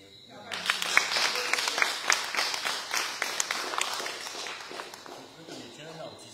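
Audience applause at the opening of an art exhibition in Port-Louis, a steady patter of clapping that swells and then thins out, with voices talking over it.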